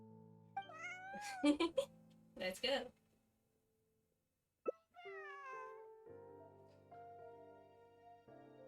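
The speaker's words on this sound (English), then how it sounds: "Bonnie the cute cat." A cartoonish cat in a video game meows twice, loud and close, with rising and falling cries separated by a pause. A voice speaks briefly between them, and steady game music runs underneath toward the end.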